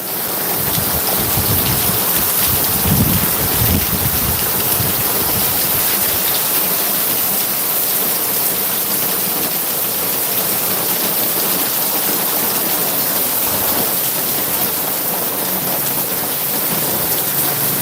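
Heavy rain pours at night in a dense, steady hiss, loud and unbroken, with a low thunder rumble early on and continuous storm noise, no voices.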